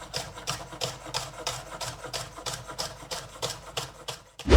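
A knife chops the green part of spring onions in quick, regular strokes, about three per second, close and moderately loud, with a heavier thud at the end.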